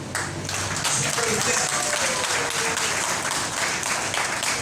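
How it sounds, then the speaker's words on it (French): Teachers and school staff at a New Year's greetings event applaud, a thick, steady crowd clapping at fairly loud level throughout, with no break in the sound. "Je vais leur demander de s'applaudir eux-mêmes."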